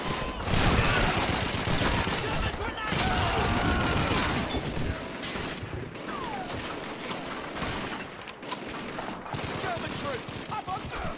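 An MG-42 machine gun firing in the video game Call of Duty 2, dense crackling bursts of automatic fire mixed with other battle gunfire and clatter, loud and sustained with brief lulls.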